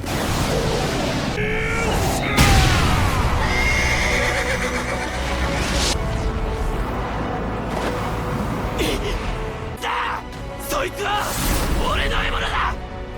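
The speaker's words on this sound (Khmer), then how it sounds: "Sorafin ក៏បានជិះសេះមកដល់" A horse neighs loudly amid galloping hooves and a busy battle-like scene from the Vinland Saga anime, with shouting voices and clatter around it, the whinnies rising sharply over the dense commotion.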